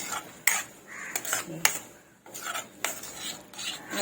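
A spoon scraping and clinking against a pan while curd is stirred into an okra masala, giving scattered sharp metallic knocks and rubbing scrapes, fairly close, with no talk.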